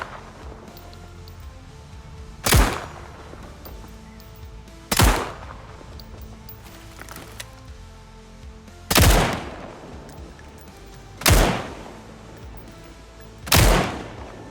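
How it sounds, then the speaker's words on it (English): Five loud, sharp gunshots from a weapon in the game SCP 5K ring out one at a time, spaced a couple of seconds apart, each with a short echoing tail over low ambient noise. "look closely at the trigger finger when I pull the trigger and then stop shooting after"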